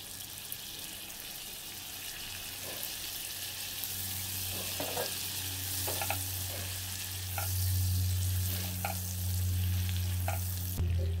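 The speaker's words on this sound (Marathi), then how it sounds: "चला आता व्हाईट सॉससाठी मी इथे पॅनमध्ये बटर घालते।" Butter melting in a pan for white sauce gives a steady, close sizzle with a low hum underneath and a few soft clinks, growing slightly louder toward the end, with no voices.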